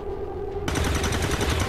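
Gunfire in the XCOM 2 video game, a steady hum suddenly broken by a loud, dense burst of rapid shots that continues to the end, with no talk.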